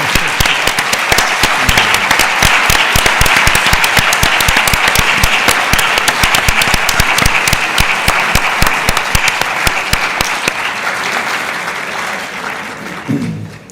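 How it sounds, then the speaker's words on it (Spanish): A large audience at a popular religious forum in Vitoria-Gasteiz applauds loudly and steadily for about ten seconds before the clapping thins and fades, with a brief voice near the end. "ahora aplaudís, pero fuerte"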